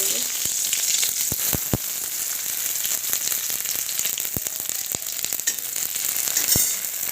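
Leftover onions frying in hot oil for a soybean dish, a continuous close sizzle with sharp occasional clicks and taps of a spatula against the pan.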